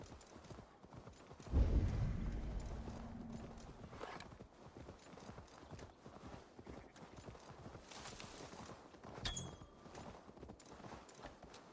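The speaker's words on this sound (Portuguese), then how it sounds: "Não acham que aquele cavalo está a andar de uma forma um bocado estranha?" Steady clip-clop of a horse's hooves walking in Assassin's Creed Valhalla, a rhythmic beat under game ambience with a heavier thud near the start and faint voices.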